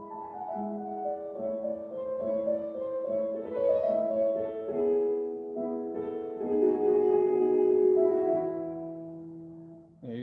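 Piano with a melodic right-hand line in the treble moving over sustained harmonic intervals in the left hand, played steadily for about ten seconds with no talking.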